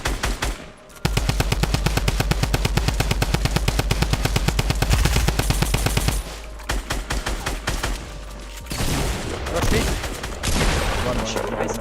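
Gunfire in a Fortnite match, with a long rapid automatic burst of evenly spaced loud shots, then a pause and more bursts and impacts, with players talking over it.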